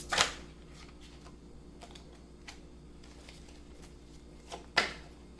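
Tarot cards are shuffled and handled in quiet surroundings, with two sharp riffling bursts at the start and near the end and soft taps and slides of cards between them.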